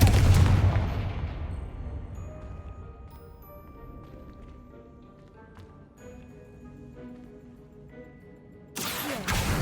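A Confringo blasting spell goes off in Hogwarts Legacy, opening with a loud, close burst that decays into a long, fading rumble. A second sharp blast cuts in right at the end.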